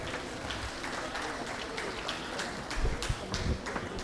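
Seated audience applauding an award recipient at a sanitation honors ceremony, a steady ragged clatter of many hands with a few sharper, louder claps near the end.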